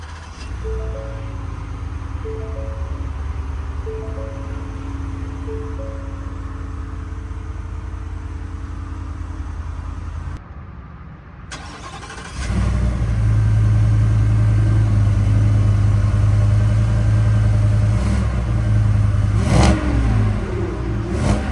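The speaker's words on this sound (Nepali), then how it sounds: "अब हामी यसलाई स्टार्ट गर्छौँ र यसको इन्जिनको आवाज कस्तो आउँछ सुन्छौँ" 2025 Ford F150 pickup engine cranks after a quiet stretch, then settles into a loud, deep steady idle close by, following earlier softer background tones.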